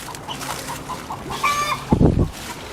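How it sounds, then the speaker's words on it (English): Backyard chickens clucking in short bursts at close range, rising to a louder flurry of clucks near the end, with steady low ambient noise underneath. "Chickens are doing good, still laying lots of eggs for us."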